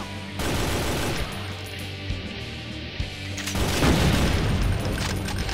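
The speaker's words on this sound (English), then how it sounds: "who's shooting me with the same gun?" Heavy, booming gunfire in the first-person shooter Brutal Doom II with a black metal music mod, loud sustained blasts and rumbling explosions layered over each other, swelling louder in the second half.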